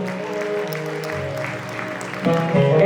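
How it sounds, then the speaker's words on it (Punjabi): Audience clapping at a live Punjabi music show in Toronto, a brief burst of applause mixed with crowd murmur and background music, swelling a little toward the end. "ਪਲੀਜ਼ ਇਹਨਾਂ ਲਈ ਖੋਲ ਕੇ ਤਾਲੀਆਂ"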